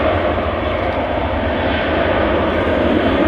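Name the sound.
airplane engines at full power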